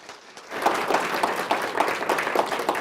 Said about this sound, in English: would you please give him a warm round of applause